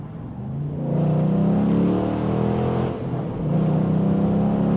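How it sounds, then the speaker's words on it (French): A car engine revs hard twice in quick succession, the loud raspy tone climbing and holding, dipping briefly between pulls, close and with no talk. "On va faire un petit accel."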